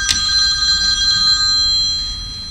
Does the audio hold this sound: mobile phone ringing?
yes